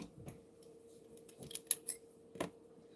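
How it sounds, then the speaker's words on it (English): Scissors snip fabric in a quiet room, a few short, crisp cuts spaced irregularly, with soft handling noise between them. "let me get my scissors"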